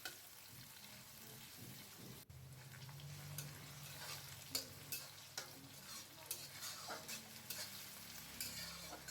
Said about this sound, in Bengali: সাদা তেল দিয়ে দিলাম, পেঁয়াজ দিয়ে দিলাম। দিয়ে পেঁয়াজটা আমি খুব ভালো করে অনেকক্ষণ ধরে ভেজে নেব।